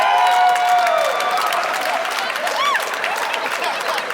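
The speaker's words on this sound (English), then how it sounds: "I'm glad a lot of you are cheering." Comedy club audience at a stand-up special breaks into dense applause and cheering, a steady wash of clapping with whistles and shouts that stays loud throughout, with no talk over it.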